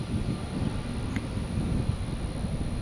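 A Boeing 767 airliner accelerates down the runway at Tampa, heard as a steady low engine roar with wind noise from a distance, continuous and without talk.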